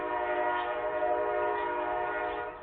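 A sustained multi-tone horn blares steadily for nearly three seconds, loud and continuous with a chord-like harmonic structure, fading slightly at the end.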